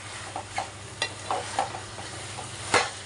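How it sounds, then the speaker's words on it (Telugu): Marinated chicken pieces are stirred into fried onions in a pan, giving a steady low sizzle under scattered scraping strokes of a utensil, with a sharper clatter near the end. "మనం మ్యాగ్నేట్ చేసుకున్నటువంటి చికెన్ ముక్కల్ని ఇందులో కలుపుకొని బాగా కలిపెట్టుకోవాలి"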